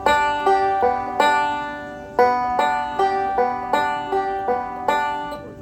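Bluegrass banjo forward roll picked index, middle, thumb for Bile Them Cabbage Down: bright plucked notes ring out in a quick, even repeating pattern, close and alone.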